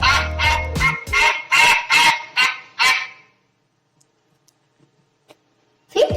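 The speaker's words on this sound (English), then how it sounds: "Duck sounds as" A duck calling in a rapid series of about eight loud nasal honks over three seconds, then near silence with faint ticks and a final burst at the end.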